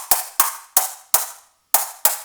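Six synthetic clap hits from a drum module ring out one after another at a steady pace, each a bright noisy burst with a short tail, a brief pause before the last two, close and fairly loud.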